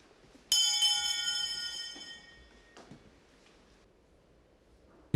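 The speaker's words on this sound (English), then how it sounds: "The kai-chinrei, or bedtime bell, is rung at 9 p.m. to signal lights out." Kai-chinrei bedtime bell at Eiheiji Soto Zen temple, rung at night for lights out: a single soft, ringing strike that decays slowly over a couple of seconds in a quiet, hushed space, with a faint knock later.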